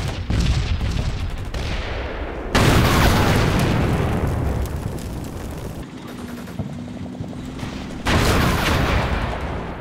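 Continuous heavy gunfire and booming blasts in the Combat Mission Black Sea war game, a dense loud barrage of overlapping shots and explosions with brief lulls, sustained throughout without speech.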